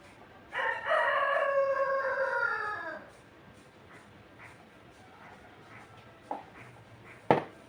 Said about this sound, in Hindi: यहाँ पे मुर्गा बहुत बोलता है